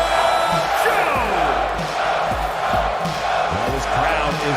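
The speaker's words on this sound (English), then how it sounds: "this crowd is chanting his name" Dense video game wrestling crowd in WWE 2K22 roaring and chanting in a steady rhythmic swell, with punchy thuds and slams cutting through the sustained arena noise.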